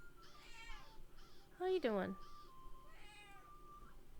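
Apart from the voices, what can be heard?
cat meowing pitifully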